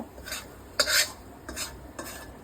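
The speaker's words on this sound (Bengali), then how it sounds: "আর আমি ভালো করে নেড়ে নেব" Fried spices stirred into cooked rice and lentil khichuri, a spoon scraping through the pot in about four rhythmic strokes over a faint background sizzle, close and without talk.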